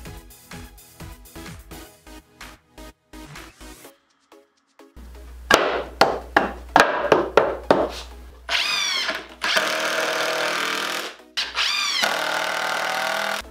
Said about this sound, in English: Then I'm gonna use a table saw to cut them down to size.